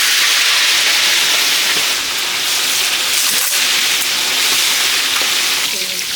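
Koi fish frying in hot oil, a dense, loud, continuous sizzle and hiss that holds steady throughout, with a few faint clatters underneath.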